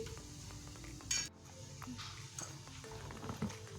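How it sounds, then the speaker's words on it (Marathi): Sabudana tikkis frying in a pan, a soft sizzle running beneath light clinks and scrapes of a utensil against the pan, with one sharper clatter early on, close and moderately quiet. "दोन्ही साईडने छान कलर येईपर्यंत या टिक्क्या मी तळून घेते"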